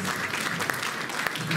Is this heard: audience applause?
yes